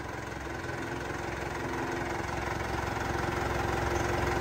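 A Yanmar 357 tractor with a 57 HP engine running steadily, a continuous close, loud idling rumble with a faint knocking vibration throughout and no talk.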